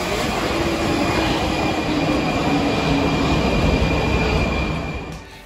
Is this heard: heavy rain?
no